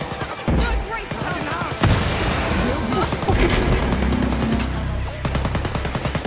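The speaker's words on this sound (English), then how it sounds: "You're shooting me." Gunfire in the Wolfenstein Youngblood video game: rapid bursts of automatic shooting and scattered single shots rattle loudly and almost continuously, with a few heavier thuds and game sounds mixed in.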